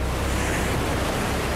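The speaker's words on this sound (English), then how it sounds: "Powered by frequent hurricane-force winds, waves regularly reach 10 meters and have been recorded over 30 meters high." Wind roars steadily over heavy waves on the open Southern Ocean, a dense, constant wash of surf and gusting air with no pauses.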